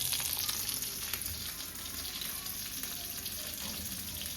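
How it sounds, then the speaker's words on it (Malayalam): A pan of frying mackerel hisses and spatters continuously, a bright steady sizzle heard up close and alone for a few seconds. "മീനൊക്കെ വറുത്തോണ്ടിരിക്കുക."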